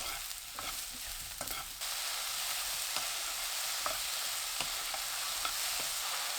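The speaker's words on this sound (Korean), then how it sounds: "새송이 버섯, 고운 소금 3분의 1큰술 넣고 3분 볶아주세요" King oyster mushrooms stir-fried with a pinch of fine salt give a steady, close hiss of sizzling, broken by a few light scrapes and taps of the spatula, with no voices.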